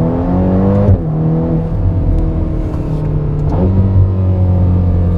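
A Ferrari engine revs hard and steadily, loud and close, its pitch climbing in two sweeping rises with a brief drop between them, sustained throughout with no voices.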